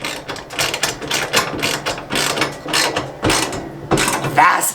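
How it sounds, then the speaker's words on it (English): Ratchet wrench turning bolts while an ATV snow plow is assembled, a quick run of loud, close clicking bursts repeating steadily with brief pauses, under faint background voices. "I'm turning the wrench."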